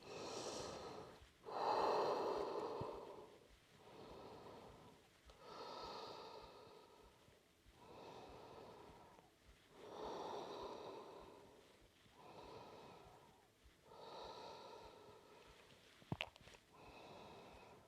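Slow, steady breathing from a yoga instructor, about eight long inhales and exhales spaced a couple of seconds apart, close and soft in a quiet room, with no talk over them.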